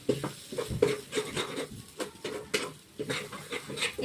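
Food being stirred and sautéed in a pan while it is cooked down, giving steady scraping and sizzling with irregular clinks of the utensil against the pan, close and fairly quiet, with no talking.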